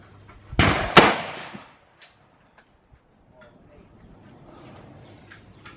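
A couple of loud, sharp gunshot cracks close together fired at targets outdoors, followed by quiet background with faint ambient noise.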